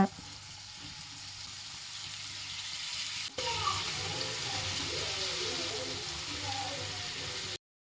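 Chicken pieces for a home-cooked, restaurant-style lemon chicken sizzle in hot oil. A steady hiss jumps after a sharp clatter partway through, then continues as busy crackling frying close by.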